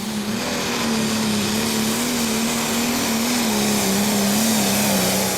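A prostock pulling tractor named Rough Justice roars loudly and steadily through a full pull at a Eurocup tractor pulling event in Brande, Denmark, its engine holding a sustained high-revving drone that wavers slightly in pitch throughout.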